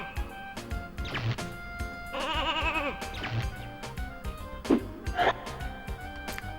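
A PS1 video game sheep bleats in several wavering electronic cries amid game music with steady tones and thuds, the bleats recurring over a few seconds.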